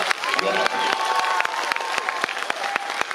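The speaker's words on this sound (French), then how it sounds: "Cher Anta Diop, que je vous demande d'applaudir fortement." Audience at a pan-African rally in Bobigny, France, applauding and cheering in a dense, steady wash of claps with crowd voices mixed in, fairly loud and close throughout.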